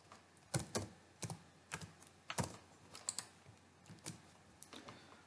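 Fingers type code for an Angular web app on a computer keyboard, producing an irregular run of crisp, close key clicks with a few louder strikes and short pauses, and no talking.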